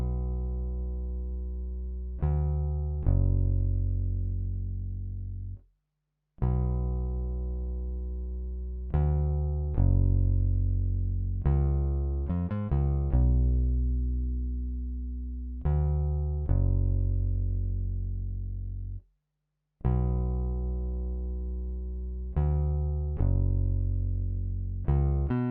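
A clean, dry bass line plays a short repeating riff of sustained, rounded notes, with two brief pauses, alone and fairly loud.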